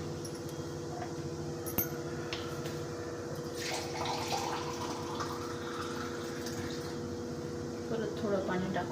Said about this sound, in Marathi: परत थोडं पाणी टाकून घेते.